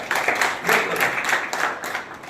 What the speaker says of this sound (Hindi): उसके बाद उसके इस विद्यालय के लिए जोरदार तालियां बजाएं